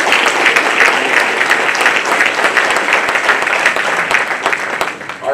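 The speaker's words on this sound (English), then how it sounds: "let's give a round of applause for Alex." Audience applause at a high school spring signing day for lacrosse, a steady, fairly loud wash of many hands clapping for about five seconds before tapering off.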